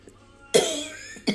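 Two sharp, close coughs from one person, a strong one followed by a shorter one about a second later, with near silence before them.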